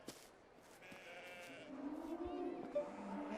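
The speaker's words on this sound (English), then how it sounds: "Moo cows." Cattle lowing in the ancient-Israel video game Gate Zero, a faint, drawn-out low call rising in the latter half over a quiet background.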